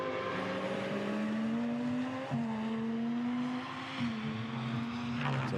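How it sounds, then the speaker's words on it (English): GT2 race cars pass through at Misano circuit, engines loud and sustained with steady harmonic tones that drop abruptly as gears change or cars go by, a continuous racing roar with no talk. "So the cars come through."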